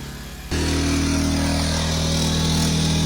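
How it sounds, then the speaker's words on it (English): A portable generator starts up beside a tent garage and settles into a loud, steady engine drone with a deep hum, running alone and close. "All right, generator running."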